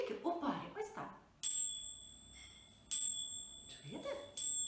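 Small bells shaken together as a pair give three bright, ringing strikes that each fade slowly, with someone speaking before the first ring and again near the end.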